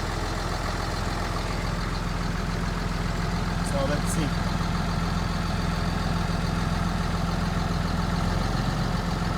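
A Cummins CM849 diesel in a 7.3 conversion truck idles with a steady low rumble throughout, while someone speaks briefly over it.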